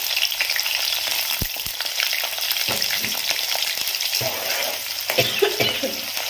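Onions and vertically slit green chillies sizzle steadily in hot oil in a pan for fish curry, a continuous dense crackle with occasional clinks and scrapes of stirring.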